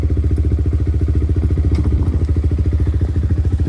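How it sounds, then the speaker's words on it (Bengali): A Yamaha MT-15 motorcycle engine running in first gear on a stand, a loud, close, steady rhythmic thumping idle with light mechanical clatter, no voices. "বাইক স্টার্ট করে দিয়েছি, ফার্স্ট গিয়ারে দিয়ে দিচ্ছি।"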